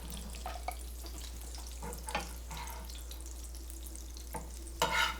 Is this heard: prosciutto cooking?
yes